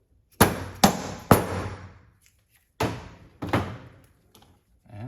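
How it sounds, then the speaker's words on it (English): Hammer tapping a part to press fit it on a car, five sharp metallic knocks in two groups, three quick strikes then a pause and two more, close and ringing briefly. "then tap it with a hammer to press fit that in there"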